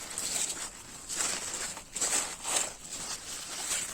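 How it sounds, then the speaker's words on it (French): A dog drinks from an icy rainwater collection tank up close, in a run of wet, uneven slurps and splashes, with no voices. "mon chien est en train de boire dans un récupérateur d'eau de pluie glaciaire"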